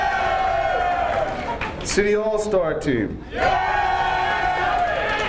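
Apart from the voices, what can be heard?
crowd cheering at hall of fame ceremony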